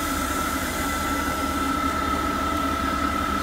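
A positive displacement rotary screw steam turbine running on low-pressure steam, coupled to a 10 horsepower motor, giving a loud steady whirring hum with a constant whine and no change in pitch.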